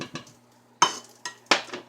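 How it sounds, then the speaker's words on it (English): Mushrooms being stirred in a pan with a utensil, giving a few sharp scrapes and clinks of metal on cookware at close range, spaced apart with quiet gaps. "I'm just going to stir these mushrooms in."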